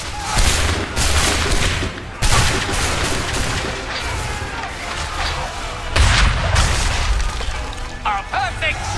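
Musket gunfire from Assassin's Creed III rings out as repeated loud volleys and scattered shots over a busy battlefield din, with voices talking between the blasts.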